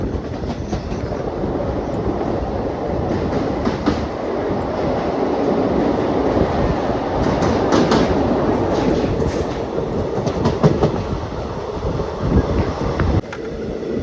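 Thrissur-Kannur Express running, heard from inside a crowded general-class coach: a steady, loud rumble of wheels and carriage with rhythmic clickety-clack over the rails and some wind buffeting, continuous throughout with no talk.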